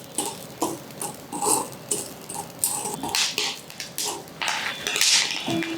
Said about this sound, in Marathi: लाह्या आहेत ना टपाटप फुटतात.